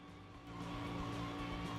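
Cars skid and squeal in Sonic Adventure 2, a short burst of tire screeching and engine noise that grows slightly louder, with no talking.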